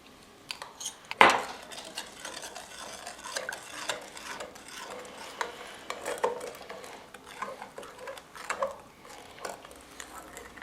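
A whole wheat bread mixture of flour, water and yeast stirred in a bowl, with soft scraping and clinking strokes at an uneven rhythm and one sharper knock early on, fairly quiet with no talk.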